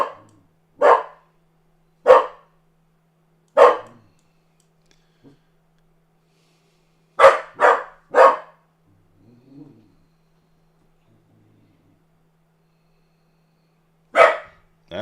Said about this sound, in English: I don't know what he's barking at. Sorry he's barking in y'all's ears